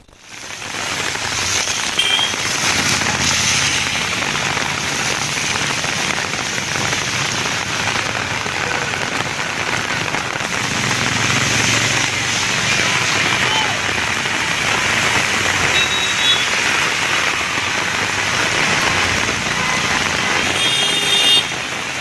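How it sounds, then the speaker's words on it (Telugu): Heavy rain with gusty winds pours over Hyderabad, a loud, continuous dense hiss of drops hitting surfaces that holds steady for over twenty seconds. "నగరంలోని పలు ప్రాంతాల్లో భారీ వర్షం కురుస్తోంది."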